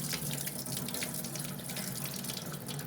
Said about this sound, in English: So then I just strain the water out like that.